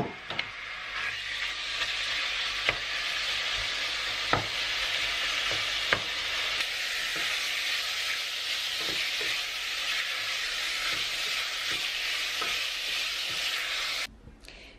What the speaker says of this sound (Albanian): Tash mas pari e fërgëj mishën e bardhë pak në vaj u liri.